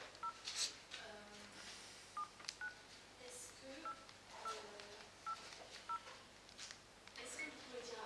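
A mobile phone number is dialed, a steady series of short keypad tones spaced across several seconds, soft and close, with faint background sound and some talk around it.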